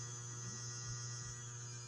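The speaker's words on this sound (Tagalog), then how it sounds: "Kita nyo naman kung anong sira ng aking electric fan." Faint, steady electric hum from a Camel electric fan with a faulty capacitor, a low constant drone with a thin higher tone above it, quiet and unchanging throughout.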